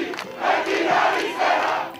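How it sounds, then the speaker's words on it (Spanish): A crowd of Cypriot protesters cheering and shouting together in swelling waves of massed voices, loud and sustained over the short stretch. "la multitud ha roto en aplausos y ha pronunciado gritos como el de Chipre pertenece a su pueblo"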